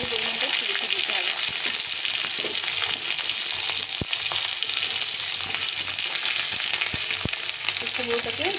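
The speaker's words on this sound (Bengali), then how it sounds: "কুমড়োটাকে একটু লাল করে ভেজে নিতে হবে" Pumpkin and potato pieces frying in oil, a loud steady sizzle with sparse sharp utensil knocks and faint voices talking at the start and end.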